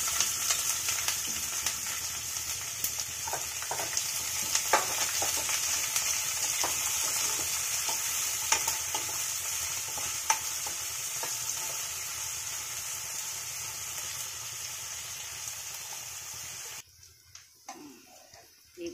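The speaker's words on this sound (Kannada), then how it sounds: "ಕರಿಬೇವು ಈರುಳ್ಳಿ ಹಸಿಮೆಣಸಿನ್ಕಾಯಿ ಹಾಕ್ತಾ ಇದ್ದೀನಿ." Curry leaves, onion and green chillies fry in hot oil for a coconut upma, a steady crackling sizzle with occasional stirring scrapes that drops away abruptly near the end.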